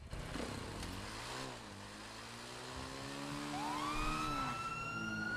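A police motorcycle siren in a video game, a steady wailing tone that sweeps down and then climbs back up, loud and alone without any talk.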